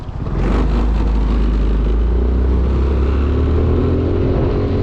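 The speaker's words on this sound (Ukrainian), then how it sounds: "Зараз ми на спорті попробуємо, що воно їде, а їхати вона повинна гарно." A Honda Forza MF08 fuel-injected scooter accelerates in sport mode, its engine rising from a quick start into a loud, steady, droning pull heard up close.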